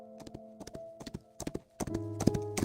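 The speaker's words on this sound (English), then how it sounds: "Their servants and horses divide the forest into chaotic, noisy sections." Horse hooves clop through a forest in a video game, with uneven bursts of several quick hoofbeats close by and steady tonal background music underneath.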